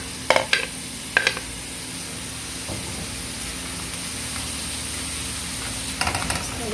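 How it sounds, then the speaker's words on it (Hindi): Green chilies stir-frying in a hot pan, a constant loud sizzle and hiss with a few short clattering stirs near the start and at the end, no talking. "इसको भी थोड़ी देर के लिए भून लेंगे हम।"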